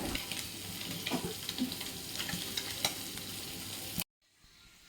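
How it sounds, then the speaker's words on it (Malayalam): Sardines frying in a pan in a home kitchen give off a steady close sizzle with stirring scrapes, loud and continuous until cutting out abruptly near the end. "പിന്നെ മീൻ ഇതാ വറുത്തുകൊണ്ടിരിക്കുകയാണ്"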